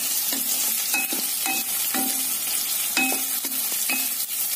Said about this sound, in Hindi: आलू को हम 1 मिनट के करीब फ्राई करेंगे।